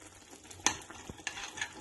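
Chicken stirred with lemon juice and butter in a pan, a few soft scrapes and clinks of a spoon over a faint sizzle, quiet and close with no talking.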